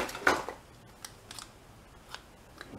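Scissors snipping quilt fabric during quilt assembly, one clear close cut followed by a few faint, sparse clicks in a quiet room.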